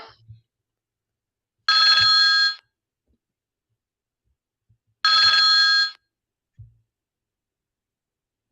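A telephone rings twice with electronic trills, each burst lasting close to a second, separated by a few seconds of silence and followed by faint low knocks.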